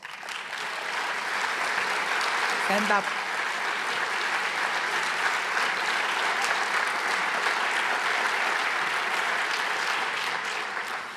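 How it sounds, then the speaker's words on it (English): Sustained applause from a large audience at the opening ceremony of the Zero Project Conference 2025, greeting Martin Essel. The clapping is dense and steady for the full length, with a brief spoken phrase near the start. "Please give him a round of applause"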